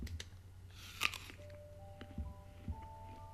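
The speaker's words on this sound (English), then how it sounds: "It's not even chewing, but chewing sound effects are going." Crunchy chewing sound effects in the Hogwarts Legacy game, a few soft bites and crunches scattered over a low game ambience, fairly faint and without talk.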